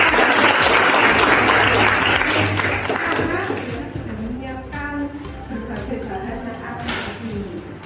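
A classroom of students claps loudly in unison for a few seconds before the applause fades, and a teacher's voice then speaks over the quieter room.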